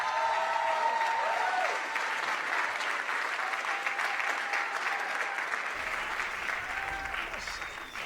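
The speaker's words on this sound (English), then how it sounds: "get ready to give a tremendous round of applause as we bring to the stage Yara Allen" A theatre crowd at the Howard Theatre in Washington, D.C., applauding and cheering as a performer comes on stage, a dense, sustained wash of clapping with faint voices in the mix, steady before easing slightly toward the end.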